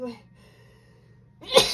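A single short, loud sneeze bursts out at the end after near-silence, with a brief laugh heard faintly at the very start.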